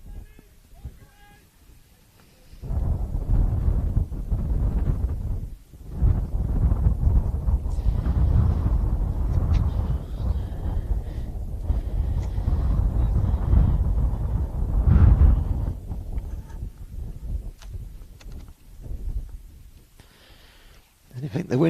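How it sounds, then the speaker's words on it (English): Strong wind buffets the microphone outdoors at a football match, a loud continuous rumbling roar with gusts rising and falling, steady from a few seconds in until near the end. "I think the wind has got stronger."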